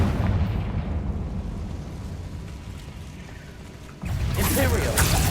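A Confringo fire spell blast in Hogwarts Legacy lands as a deep, rumbling boom that fades slowly, then a second heavy burst hits near the end with crackling debris.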